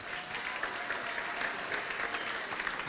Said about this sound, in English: round of applause on parents